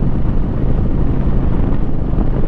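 Loud, steady coastal wind buffeting the microphone, a constant low roar with no letup and no voices.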